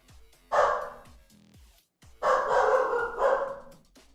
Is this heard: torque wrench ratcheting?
no